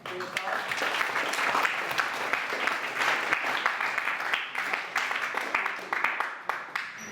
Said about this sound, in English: You want to give a round of applause?